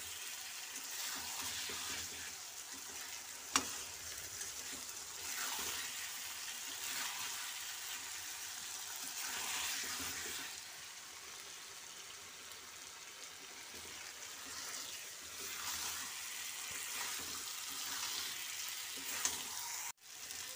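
Potatoes and chickpeas in masala sizzle and fry in a wok for a steady stretch, with a continuous hiss and faint stirring scrapes, no voices over it.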